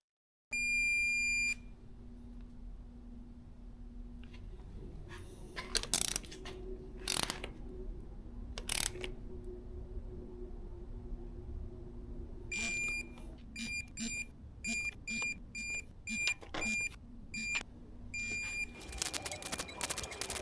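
Torque wrench tightening ARP head studs on a 6.0 LS engine: a run of sharp ratcheting clicks in bursts, then a fast series of evenly spaced wrench clicks near the end, with a steady electronic beep tone over a hum.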